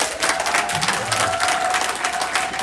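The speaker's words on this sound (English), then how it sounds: "clap for all of your supporters" Graduates at a 2020 graduation ceremony applauding their supporters, a dense sustained crowd clapping heard up close, with a faint voice briefly underneath.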